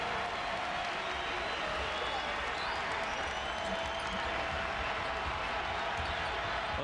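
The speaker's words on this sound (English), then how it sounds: "And the crowd making a lot of noise." A loud college basketball crowd roars at Wichita State during a 2007 game against Southern Illinois, a dense continuous wash of cheering and noise, with a few sharp bounces or claps poking through.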